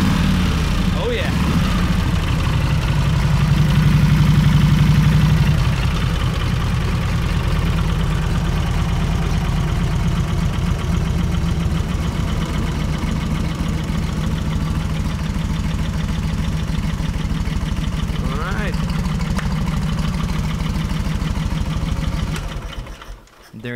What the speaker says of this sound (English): 1947 Harley Davidson 61 inch knucklehead breathing life for the first time in 50 something years.